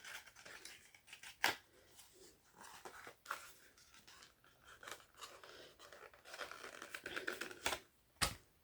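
Aldi blush and highlighter makeup packaging being opened by hand, a quiet run of crinkles, taps and sharp snaps, with one loud click near the start and another near the end.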